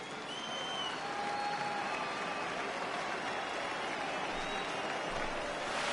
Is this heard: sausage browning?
no